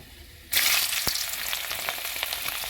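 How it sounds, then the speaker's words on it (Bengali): Rice and lentils for khichuri frying in a pan, near silence that suddenly breaks into a loud sizzle as the grains go in, then a steady crackling fry with a sharp knock early on. "এখন চাল আর ডাল এখন একটু ভেজে নিব আমি"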